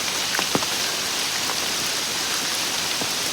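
Steady rain pours down over a corn and long bean field, a dense continuous hiss with a few scattered louder drops, close and fairly loud, no talking.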